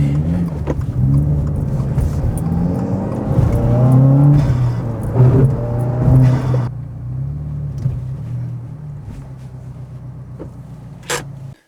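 A Subaru WRX fitted with a Perrin rear subframe lockdown on a test drive, its engine rumbling loudly and steadily with rising revs, then easing to a quieter, even drone near the end.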